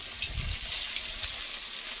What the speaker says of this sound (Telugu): మనం మ్యాగ్నేట్ చేసిన ముక్కలను అయితే నూనెలో అయితే వేసేస్తే చూడండి సౌండ్ ఎలా వస్తుందో